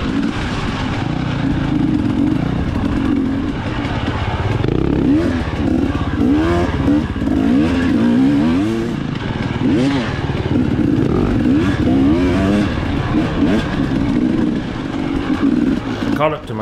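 A KTM 250XC-W dirt bike racing in a hare scramble at Windwood Farms, its engine loud and close, lugging at low revs and revving up and down continuously while a rider talks over it.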